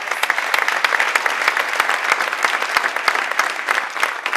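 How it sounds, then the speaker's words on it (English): Enthusiastic applause from a crowd, dense, steady clapping that holds strong for the whole stretch. "So give them a big round of applause."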